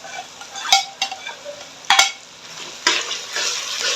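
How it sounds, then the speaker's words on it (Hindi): Tomatoes fry with ginger garlic paste in a pan, a soft steady sizzle broken by sharp scrapes and clinks of a spoon stirring against the metal, close by and without talking. "इनको भी अच्छे से फ्राई कर लें"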